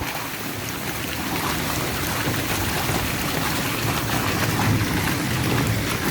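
A hailstorm in Araxá, Minas Gerais, with heavy rain and hail pelting down, a dense, loud, continuous roar of impacts with no pauses.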